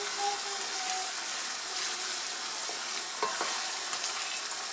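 Okra and tomato stew simmers in a pot with a steady, bubbling hiss, joined briefly by a few soft knocks and clicks of a utensil.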